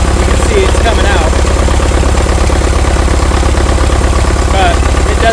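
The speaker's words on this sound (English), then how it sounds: "But it doesn't change the way the engine is running at all." An International TD-6 crawler tractor engine, recently freed after being locked up, runs steadily at idle with a loud, even low rumble throughout and a voice talking over it.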